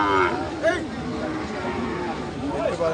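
Thin, bony cattle moo in drawn-out, wavering calls under steady background murmur and chatter at a cattle market, a few bellows overlapping.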